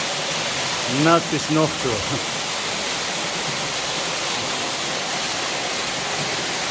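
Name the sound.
waterfall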